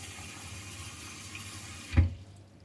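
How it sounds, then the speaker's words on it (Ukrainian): Cold tap water runs in a steady hiss as it is poured into jars of cucumbers for pickling, then swells into a short, louder splash before quickly fading. "Тепер вода у нас, звичайна, з-під крану. Холодна. Ми заливаємо."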